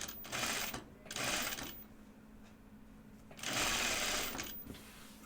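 Sewing machine stitching binding onto a dress, three bursts of rapid, steady stitching separated by quiet pauses, fairly soft and close with no voices.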